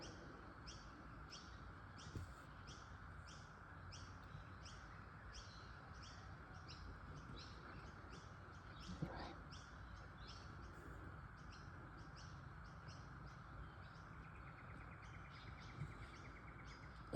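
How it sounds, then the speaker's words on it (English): Cockatoos and rainbow lorikeets calling outdoors on a rainy morning: a steady run of faint, rhythmic chirps and squawks from some distance, over a soft background wash of rain. "There's some cockatoos out there eating the seeds, and I don't think that the rainbow lorikeets were very happy about that."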